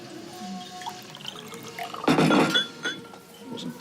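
A drink poured into a glass at a quiet bar, a short clinking splash of liquid rising over soft room tone, with faint background noise before and after.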